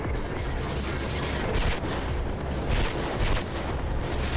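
Rapid submachine gun fire in the Mirror's Edge video game, a dense continuous burst of shots with louder spikes throughout, close and loud with no talking.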